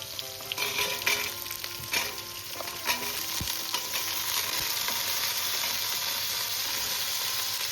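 Potato pieces and vegetable stems fry together in a pan, a loud steady sizzle with several spatula knocks and scrapes early on, then settling into an even hiss, close and without speech.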